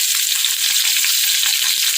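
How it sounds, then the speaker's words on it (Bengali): Potato and cauliflower pieces frying in hot oil as bay leaves go in, giving a dense, loud, continuous sizzle close up with no pauses. "এই যে আলু আর ফুলকপি লাল লাল করে ভাজা হয়েছে, আমি এবার কয়েকটা তেজপাতা দিলাম"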